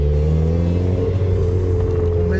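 A Mazda Roadster's engine revs loud and close, a steady throaty drone with a strong low hum and rising tone over a couple of seconds, heard alone without voices.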